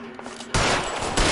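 Gunfire in the video game L.A. Noire, a loud burst of shots that cuts in abruptly after quieter background, followed by a second hit near the end.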